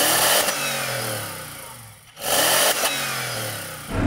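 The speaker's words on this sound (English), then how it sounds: "Let's give it some revs." A BMW engine run without oil revs hard in repeated bursts, loud and close, dropping briefly toward idle between blips, with a raspy edge from a suspected hole in the exhaust and no soft limiter cutting in.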